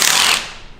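An impact wrench works on a head bolt of the Cummins diesel engine in a Mustang, giving one loud, harsh burst of hammering that quickly fades away, with no voices.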